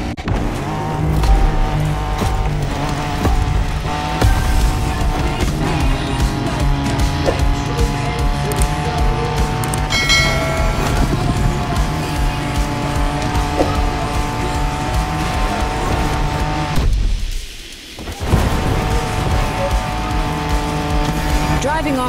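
Engines roar steadily as cars race off-road in the video game The Crew Motorfest, with tire squeals and skids, music and a voice talking over the loud continuous driving.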